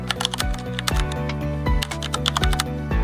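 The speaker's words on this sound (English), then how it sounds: "simply click anywhere on the page and start typing" Rapid keystrokes on a computer keyboard while writing a document, irregular clicks and taps with a few louder key strikes, close and clear, with soft music-like tones underneath.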